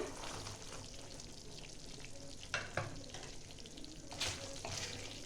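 Pointed gourd (potol) sizzles steadily in hot oil in a pan for a Bengali dohi potol dish, with a continuous close frying hiss and a few sharp clicks of stirring.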